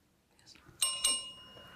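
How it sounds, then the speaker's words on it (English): A quiz-competition bell rings twice in quick succession, bright metallic tones that linger and fade, marking the end of a round in a quiet hall with faint murmuring behind. "Bell signals the end of that round"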